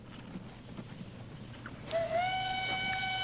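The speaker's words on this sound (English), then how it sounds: "that's a whistle of much repute" A steam-style train whistle blows in the video game Transport Fever, starting partway through after a low rumble of rolling stock and holding as a loud, sustained chord to the end, with no talking.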